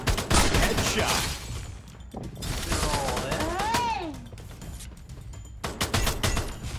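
Gunfire in the mobile shooter game Free Fire, bursts of rapid shots at the start and end with a loud crash in between, while players chatter over the action.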